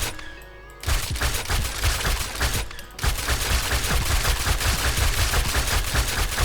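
A KRS Super V submachine gun from the IZY All In One Gun Pack mod fires in 7 Days to Die, loud rapid automatic bursts that break off briefly near the three-second mark before resuming, with no talking.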